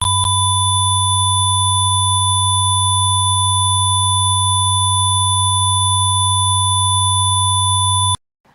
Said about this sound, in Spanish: el tono puro generado